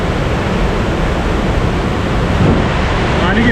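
Waterfall spray at Tokopah Falls in Sequoia National Park makes a dense, steady rushing roar close by, with a hint of wind buffeting throughout.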